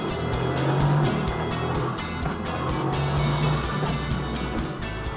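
A car drives at around 50 km/h with its seven-speed robotized dual-clutch gearbox, giving a strong, steady engine roar with rhythmic pulses and some road and tire noise, close and continuous, with no speech.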